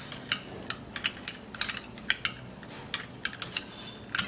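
A utensil stirring rice powder paste for a face mask in a bowl, giving a run of light, quick clinks and scrapes in an irregular rhythm, close and fairly quiet.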